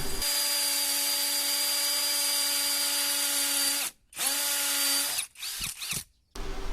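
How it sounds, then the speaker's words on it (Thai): A Pumpkin 50438 16V cordless impact drill bores into a concrete pillar, giving a loud, steady high-pitched whine for about four seconds, then a short pause and another run, followed by brief stop-start bursts. "หรือจะเอามาเจาะเสาปูนได้ไหม อันนี้ก็ต้องบอกว่าเจาะพอได้อยู่นะ"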